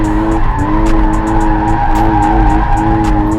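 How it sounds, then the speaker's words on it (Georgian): A Dodge drifting, its tires squealing in a steady, loud screech while the engine holds a sustained note, close by and with no talk over it. "ეს იყო ჩქარი დრიფტი რა"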